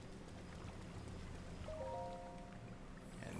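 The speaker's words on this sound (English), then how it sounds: "And now it's raining over here," Steady rain falls in Breath of the Wild, a continuous broadband hiss that holds at an even level throughout, with a brief tonal game chime partway through.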